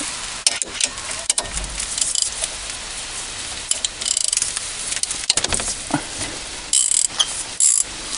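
A wrench loosening a brake caliper nut while changing front brake pads, heard as repeated close metallic ratchet clicks and clanks in irregular bursts, with no talking.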